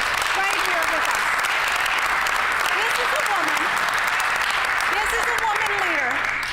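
Sustained applause fills a provincial legislative chamber, dense and even throughout, with a voice speaking faintly underneath.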